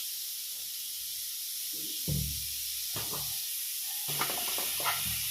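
Tomato with chili powder, turmeric and salt sizzles in a hot pan as a steady hiss, broken by several louder bursts of frying and stirring scrapes, the last one lasting about a second.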